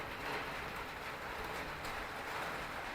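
Rain falling around a village temple, a steady even hiss of drops on surfaces throughout, moderately loud with no voices.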